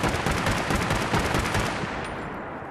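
A Winchester Model 1907 carbine in Fallout 4 fires rapidly, rounds spaced tightly into a dense burst of sharp reports, loud and close, tailing off at the end.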